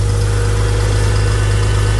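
A Farmall Cub tractor engine runs steadily after warming up for a few minutes, a loud, even low rumble with a constant throbbing idle and no talking.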